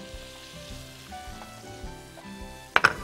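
Oil and spices sizzle in a heated wok with a steady, close frying crackle and two sharp clatters near the end.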